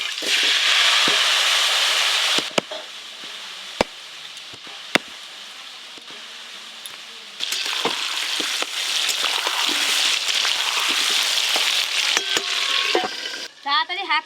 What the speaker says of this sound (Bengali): তেল খুব ভালো করে গরম হয়ে গেছে, এবার আলুগুলো ভেজে নেবো।